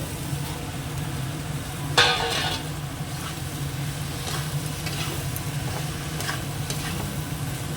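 Okra fries in spiced oil after the masala has cooked down, a continuous low sizzle with a sharper burst of stirring around two seconds and faint utensil scrapes throughout.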